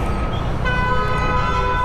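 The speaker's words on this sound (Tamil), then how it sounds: "இப்போ காதுக்குள்ளே ஹார்ன் அடிக்கிறாங்க." A vehicle horn blares steadily over rumbling traffic noise, loud and close, holding one sustained tone, heard on a highway motorcycle ride from Chennai toward Chitradurga.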